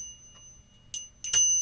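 A magician's bell prop fitted with black rug-like material is handled, giving a couple of short, bright metallic rings and jingles after near silence.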